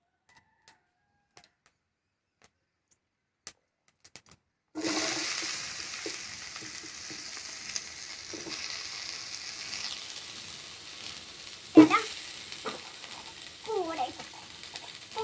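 Sliced cucumber dropped into a hot frying pan, bursting into a steady close sizzle after a quiet start, with a few sharp utensil scrapes and clatters over the hiss.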